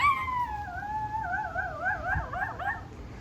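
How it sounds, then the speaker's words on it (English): A neighbour's dog, said to have had throat surgery, lets out a thin, wavering howl nearby, a long warbling cry that slides downward and then quavers unsteadily before fading, with no one speaking. "That's the neighbor's dog."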